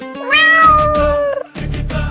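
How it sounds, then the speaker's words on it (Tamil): A cat meows loudly and close up, a long, drawn-out rising-then-falling meow followed after a brief pause by the start of another. "Meow meow குட்டி பூனைங்க"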